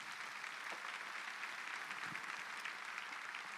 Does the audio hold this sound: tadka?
no